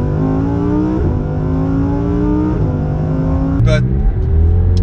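A 2020 Lamborghini Huracán EVO supercar engine revs loud and close, its tone climbing and dropping in repeated pulls, with a sharp crackle near the end.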